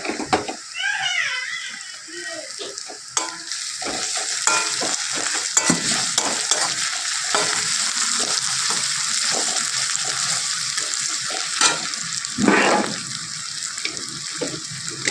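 Onion frying in a pan as grated ginger goes in, a sustained close sizzle with stirring scrapes and clatter running steadily, and a brief voice near the start.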